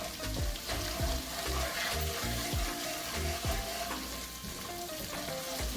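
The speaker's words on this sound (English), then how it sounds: "we're burning the curry, meaning we're letting it cook in the oil" Steady sizzling of curry powder frying in hot oil, continuous and close, with occasional stirring scrapes and no talking.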